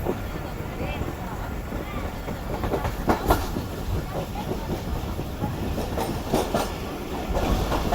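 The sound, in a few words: Rehman Baba Express train slowing near Shadatpur station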